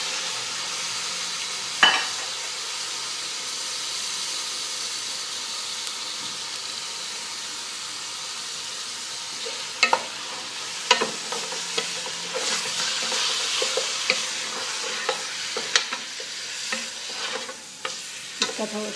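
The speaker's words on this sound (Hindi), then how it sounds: "गैस ऑन कर दिया है फुल फ्लेम की, और अब मैं इसमें ये मिर्च डालेंगी" Green chilies frying in two tablespoons of butter in a pan over a full gas flame, a steady close sizzle with occasional sharp clicks and stirring scrapes, no talking.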